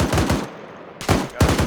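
Machine gun fire in a military video game comes in rapid, loud bursts, one short burst, a brief pause, then two more bursts close together.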